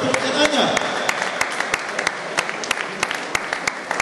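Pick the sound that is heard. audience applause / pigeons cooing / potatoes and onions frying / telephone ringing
audience applause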